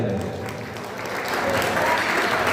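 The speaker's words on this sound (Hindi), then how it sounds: "ताली बजाओ, ताली बजाओ" Crowd clapping at a Ravidas Regar community foundation gathering during a presentation, a brief dense patter that swells slightly toward the end, with voices mixed in underneath.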